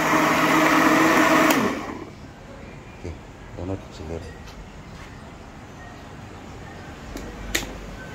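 A blender whirs loudly for about two seconds, crushing celery and other vegetables into a shake, then cuts off, leaving quiet kitchen clinks and taps with a voice talking briefly.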